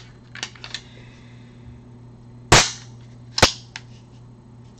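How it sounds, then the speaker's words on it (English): A Canik TP9 Elite SC pistol being cleared: a few soft metallic clicks, then a loud sharp slide rack and a second snap about a second later, close up and with no voices. "we're going to clear the Canik as well"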